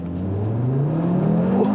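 A 2019 Audi RS3's turbocharged engine pulls hard at full throttle. A loud, steady rising drone climbs in pitch through a brief, continuous acceleration with no talking.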